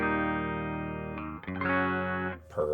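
A Jazzcaster electric guitar with Rio Grande pickups plays through a Serotonin OTS Mini 20 amp and a single 12-inch cabinet, sustained chords ringing clean and rich, changing twice in a short sequence, close and alone.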